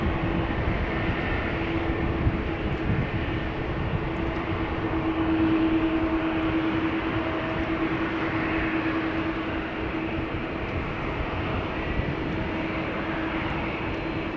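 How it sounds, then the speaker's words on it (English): A 16-year-old KLM Airbus A321 lining up on the runway at rainy Amsterdam Schiphol produces a steady broadband engine rumble with a faint whining tone, swelling slightly midway and holding level, with no talking. "destined to go to Madrid is lining up here, flying as KLM flight 1503. This A321, 16 years old, first flight September 2008."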